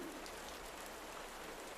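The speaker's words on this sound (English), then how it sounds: "The rain is still out there." Rain falling outside on an Appalachian mountain, a faint, continuous soft hiss at low level, even and unbroken, with no voices.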